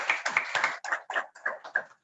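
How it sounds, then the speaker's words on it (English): A handful of people clap briefly for a speaker at a science event, about two seconds of close, uneven hand claps in quick bursts with no crowd roar. "Let's give her a round of applause."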